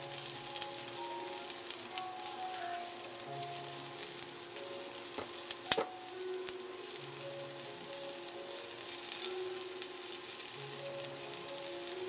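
Garlic sizzles in a pan with onion for menudo, a steady soft frying hiss with faint crackles and a single sharp utensil tap midway.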